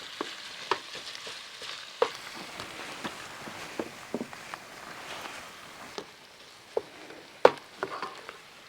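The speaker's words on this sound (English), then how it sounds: "I have added the ground beef. I'm going ahead and browning that." Ground beef browns in a pan at a camp cooking setup, sizzling softly and steadily while a utensil scrapes and stirs in irregular taps and clinks.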